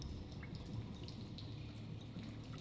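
Quiet dripping water inside a video game, a few soft drips over a faint low ambient hum, close and sparse with no talk.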